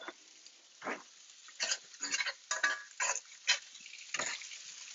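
Gnocchi tossed with a wooden spatula in a non-stick pan gives repeated scraping, stirring strokes in irregular bursts, close and moderately loud, with a faint sizzle between the strokes and no talking.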